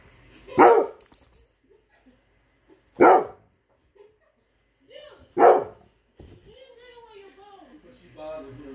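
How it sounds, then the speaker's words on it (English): A dog barks three times in sharp, well-spaced single barks close by in a quiet home, followed by whimpering and brief talk near the end. "He's literally barking at the air."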